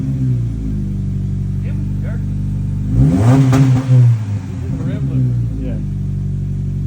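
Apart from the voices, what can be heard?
Subaru Crosstrek engine revving, exhaust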